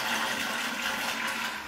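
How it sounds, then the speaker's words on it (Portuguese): A household toilet gives a strong flush, meant to push air out of the water tank, making a loud, close, continuous rush of water that runs for the whole short stretch. "Deu uma descarga um pouquinho mais forte aqui pra ver se sai o ar da caixa d'água aqui."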